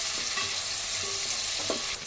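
Chopped onions and green chillies sizzle steadily in a pan, with a few scraping stir strokes over the continuous frying hiss, close and fairly loud, no talking.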